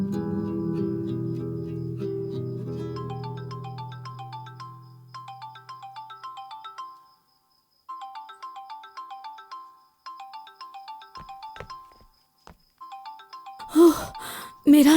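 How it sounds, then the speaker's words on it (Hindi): A mobile phone rings with an incoming call, a melodic electronic ringtone repeating in bright phrases with short pauses, after a fading low musical tone at the start and a few louder bumps near the end. "खिज़र साहब देखिए तो मीरान की कॉल आ रही है।"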